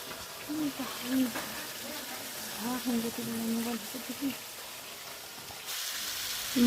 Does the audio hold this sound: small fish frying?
yes